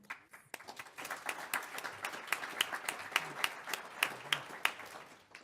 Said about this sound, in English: Thank you, and round of applause.